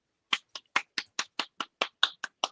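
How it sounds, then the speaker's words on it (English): A single pair of hands claps about a dozen times in quick, evenly spaced, crisp strikes, close and fairly quiet, applauding a young woman on a podcast. "Round of applause for this young lady here."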